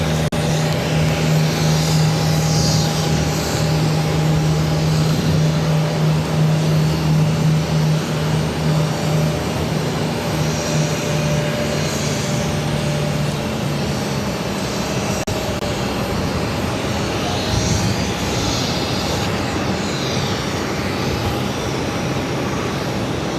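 A Dash 8 turboprop airliner arriving from Halifax drones loudly and steadily, its propeller hum holding a constant low tone that shifts slightly as it passes, with a faint rushing whine above.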